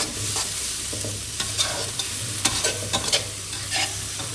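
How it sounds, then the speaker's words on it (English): Drunken noodles with basil leaves sizzle in a hot pan as they are tossed and stirred in the sauce. A steady frying hiss runs under irregular scrapes and clatters of the utensils, with no talk. "Add the basil leaves and continue tossing."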